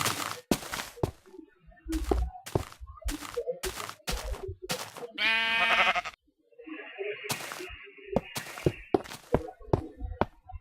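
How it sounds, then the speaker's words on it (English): A sheep bleats once in Minecraft, riding in a minecart, amid steady clicking and tapping sounds, followed by a brief synthetic tone. "There's a sheep in my minecart."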